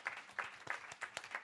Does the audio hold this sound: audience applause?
yes